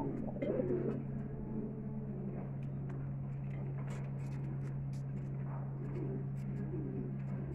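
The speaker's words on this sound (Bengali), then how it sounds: "দেখেন লাহোরি প্যারটটা দেখেন, কত বড় সাইজ দেখেন" Lahori pigeons cooing, soft low repeated coos heard at a distance over a constant low hum, quiet and steady throughout.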